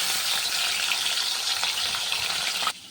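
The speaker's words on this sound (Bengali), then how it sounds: "মাছগুলো ভেজে নিই।" Bhola fish fry in hot oil, giving a steady, bright sizzle and crackle with small pops. The sound is close and continuous, then drops off sharply just before the end.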